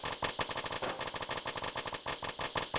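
Rapid, evenly spaced gunfire cracks out in a fast staccato burst from a Clubhouse Games shooting gallery, quiet overall with no voices over it.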